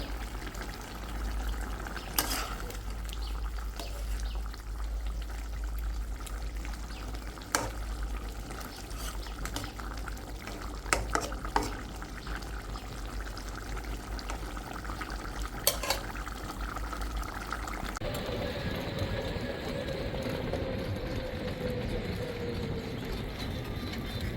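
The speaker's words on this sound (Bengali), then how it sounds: "এই তো মাছ হলো ভাজা শেষ" Fish frying in a pan gives a steady, faint sizzle for the whole stretch, broken by a few sharp clinks of a utensil against the pan, and the hiss shifts and thickens near the end as the pieces are stirred or turned.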